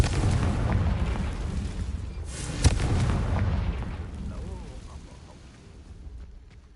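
Confringo explosive curse blasts in Hogwarts Legacy, a loud booming burst over a dense rumbling battle bed, with a sharp crack near the middle and the din fading toward the end.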